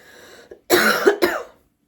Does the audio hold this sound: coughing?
yes